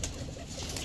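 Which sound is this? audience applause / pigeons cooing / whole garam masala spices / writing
pigeons cooing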